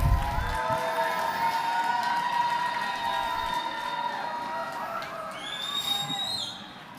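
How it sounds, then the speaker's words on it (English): A crowd at a community college commencement cheers and makes noise, with sustained tonal whoops, whistles and shouting over a continuous hubbub rather than distinct clapping. "give them a round of applause. Make some noise."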